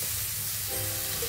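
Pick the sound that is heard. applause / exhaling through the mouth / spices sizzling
spices sizzling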